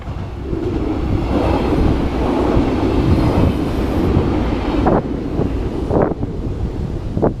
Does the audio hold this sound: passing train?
yes